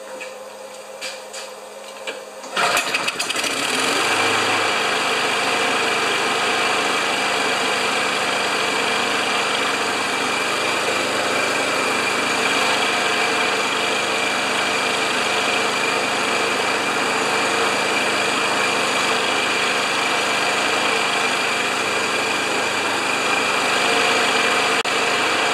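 A Craftsman lawn mower with a Kohler engine, running without an air filter, catches after a pull start and settles into a steady, loud, continuous idle that holds alone for over twenty seconds.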